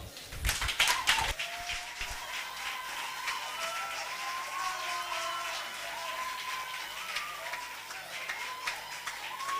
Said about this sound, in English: I hope you are clapping because you heard what he said, not because you like him.